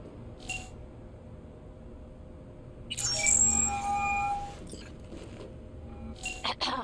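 A phone rings in the game Cyberpunk 2077, a bright electronic tone that starts abruptly and holds for about a second and a half, followed by softer beeps over a low background hum.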